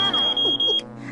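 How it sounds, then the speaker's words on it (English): A single piercing high-pitched electronic beep from a smoke alarm holds for most of a second, then cuts off abruptly. "It's a smoke alarm."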